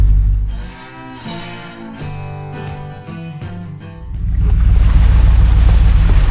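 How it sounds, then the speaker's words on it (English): Floodwater from heavy rain rushing over a road beside a wet field, a broad steady roar of moving water that swells louder in the second half, with some intermittent tonal noise early on. "There's this water rushing over the road."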